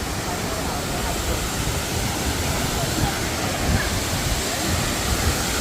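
Broadband rushing roar of the waterfall at Tad Yeuang in southern Laos, a steady, loud, unbroken wash heard up close with no pauses.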